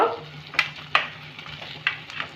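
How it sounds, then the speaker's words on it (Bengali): Fried potatoes are stirred into a cooked spice masala in a pan for a Bengali papad-and-potato vegetable curry, giving a soft sizzle broken by several sharp scraping strokes of the spoon, spaced irregularly and close by. "এবার আমি মশলাটাকে কষে নেব মশলাটাকে আমি খুব ভালো করে কষে নিয়েছি এবার আমি ভাজা আলুটাকে দেব"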